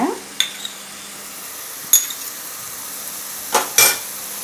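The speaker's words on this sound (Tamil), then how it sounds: "ஒரு 2 நிமிஷம் 3 நிமிஷம் இப்படியே நீங்கள் இது கிளறி விட்டுக்கிட்டு இருங்க" A utensil stirs paneer gravy in a pan. There is a steady background sizzle, with a few sharp scrapes and clinks of metal on the pan at irregular intervals, close by and without speech.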